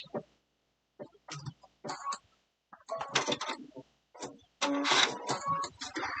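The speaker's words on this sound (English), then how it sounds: "And then I'm going to do a locking stitch." A sewing machine runs in a series of short and longer mechanical bursts while sewing a locking stitch through fabric for an Easter basket, with gaps between runs and the last burst the loudest.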